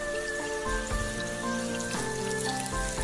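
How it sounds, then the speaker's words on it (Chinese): Thin slices of firm tofu pan-frying in hot oil over medium heat, a steady crackling sizzle like light rain on a surface, with a faint tonal hum underneath and no voices. "热锅放油，油热之后放入豆腐，开中火慢慢煎"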